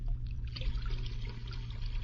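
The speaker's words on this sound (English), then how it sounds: "I pour in the cream" Cream poured into a metal pail for making ice cream, a continuous close liquid trickle and splash lasting about two seconds, no talking.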